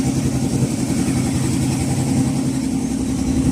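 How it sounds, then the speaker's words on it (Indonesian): A small engine drives a modified car differential used as a winch to haul the net on a lift-net fishing platform, a steady low chugging drone that continues throughout without talk. "Gardan mobil ini diputar dengan mesin nyamar ataupun mesin gendong"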